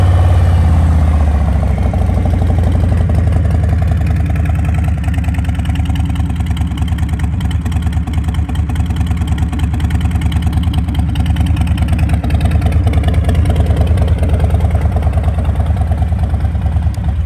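A 2019 Harley-Davidson Low Rider motorcycle engine rumbles steadily at idle, loud and close, with occasional light revs rising over the low throbbing note throughout.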